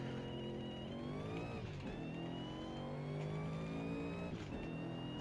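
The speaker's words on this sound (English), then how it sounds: "There's that supercharger whine." Steady supercharged car engine in a racing sim, a continuous high whine riding over the engine drone with pitch shifts as gears change, loud and close, no voices.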